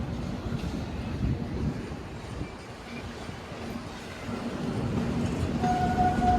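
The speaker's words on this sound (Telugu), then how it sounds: "చూడండి మన ట్రైన్ గూడ్స్ ట్రైన్తో పాటు ప్యారల్ రన్ అవుతుంది" An express train runs parallel with a goods train of box freight wagons near Vizianagaram Junction, giving a steady low rumble and rattle with wind noise throughout and a faint tonal whine near the end.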